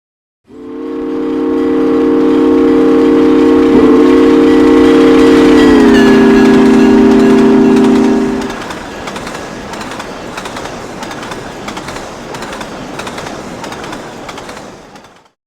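A steam locomotive pulling a passenger train blows a loud, sustained multi-tone whistle for about eight seconds, then gives way to the rhythmic clatter of the passing train.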